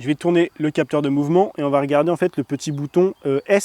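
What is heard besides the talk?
No everyday noise stands out behind the speech.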